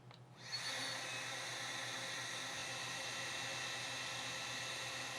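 A Wolfbox MF100 duster blower spins up on level 1 and runs as a steady, close, high-pitched whooshing whine with a hissing airflow that holds evenly after a quick start.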